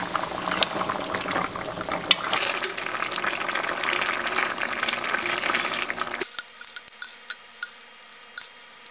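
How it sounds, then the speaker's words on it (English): A pot of goat stew bubbles at a steady boil, with thick popping and gurgling up close for about six seconds before the sound drops to sparse, quieter pops and drips, no voices. "let's let this cook 10 more minutes"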